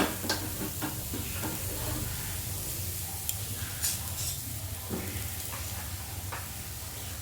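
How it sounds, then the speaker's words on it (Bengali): Grated coconut is stirred in a hot wok, with a low, dry sizzle and occasional light scraping strokes over a steady hiss. "কড়াইটা একটু গরম হয়ে গেছে, ওর মধ্যে নারকেল কোড়াটা দিয়ে দিলাম।"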